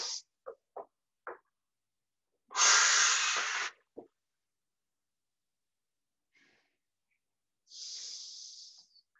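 Slow, controlled breaths during a martial arts fusion exercise class, each long exhale and inhale a soft airy hiss, with a few short sniffs before; quiet and close, with pauses of silence between breaths.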